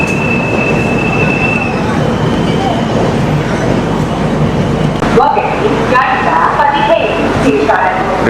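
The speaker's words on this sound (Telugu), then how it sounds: "2 నిమిషాల స్టాప్ తర్వాత ట్రైన్ బయలుదేరిపోయింది." The Konark Express pulls away after a two-minute stop, giving a continuous loud rumble of rolling carriages with a brief squeal early on and rhythmic wheel clatter building toward the end.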